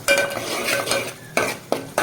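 Fried goat brain is added to tomato masala in a pan, giving a continuous close stirring and scraping sizzle punctuated by a couple of sharper knocks of a utensil against the pan.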